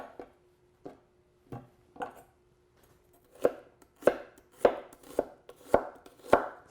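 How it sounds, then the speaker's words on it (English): A knife slices food on a cutting board, cutting fan-shaped, even slices for indigenous Texan and American cooking. About ten crisp, close chops sound alone, sparse at first, then quicker and louder toward the end. "so you're going to cut it like this"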